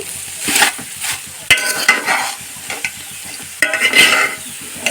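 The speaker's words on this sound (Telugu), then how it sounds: "ఇదిగోండి ఇప్పుడు బాగా కలుపుకోవాలి" Jackfruit curry with mustard is stirred in a pan, a spoon or spatula scraping in repeated close strokes over a soft sizzle, with louder bursts of stirring at intervals.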